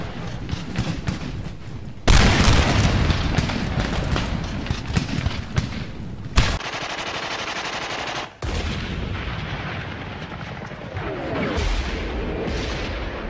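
Musket volleys and battle explosions from a Total War Darth Mod game form a dense, continuous roar of rapid gunfire and booming blasts, loud throughout with shifting intensity.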